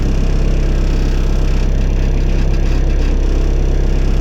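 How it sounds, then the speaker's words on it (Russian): Engine inside the cabin of a Trekol all-terrain vehicle runs loud and close, a steady droning idle with a low pulsing rumble and no voices. "А тут шумновато. То, что мотор стоит внутри."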